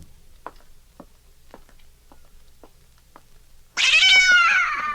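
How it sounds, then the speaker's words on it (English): After a few soft ticks, a cat lets out a loud, drawn-out meow close by, alone in a quiet indoor setting from a 1946 radio suspense drama. "You like that cat, Miss Diane."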